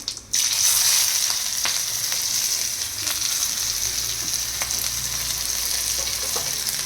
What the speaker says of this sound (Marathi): जिरे थोडे लालसर झाले की लगेच थोडं हे कांदा टाकून घ्यायचा